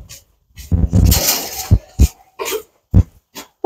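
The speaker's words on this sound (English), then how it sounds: "Oh no, Rowan, are you coughing?" A goat gives several harsh, abrupt coughs in separate bursts, a longer rough one followed by shorter hacks, close by and with no talking.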